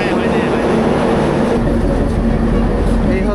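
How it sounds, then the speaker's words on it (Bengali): A Kanchan Commuter train stands at platform 2 of Panchagarh railway station, its engine giving a steady, loud rumble with a low drone that stays even, growing slightly heavier partway through. "এই হচ্ছে পঞ্চগড় রেলওয়ে স্টেশনের 2 নম্বর প্ল্যাটফর্ম, আর এই হচ্ছে আমাদের ট্রেন"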